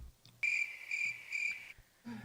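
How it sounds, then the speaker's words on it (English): Cricket chirping sound effect, three evenly spaced shrill chirps at close range over quiet background, with a brief different sound at the end. "ACP was playing the cricket sound too."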